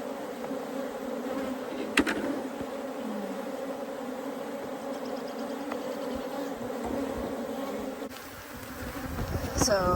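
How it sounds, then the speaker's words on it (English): A swarm of Africanized bees buzzes steadily at a hive inside a water meter box, a dense, close, continuous drone that persists throughout, with occasional clicks and knocks from handling the box. "Just so many bees."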